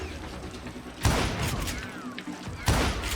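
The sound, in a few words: gunfire in Call of Juarez Gunslinger video game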